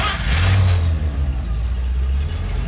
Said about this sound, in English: Start a motor first.